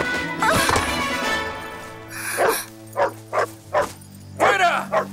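Dog barking and snarling in an action scene of a 2009 Spanish-dubbed family treasure-hunt film, a run of sharp, loud barks in quick bursts over a growl, with a crash early on and tense background music.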